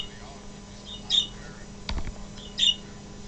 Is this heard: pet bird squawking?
yes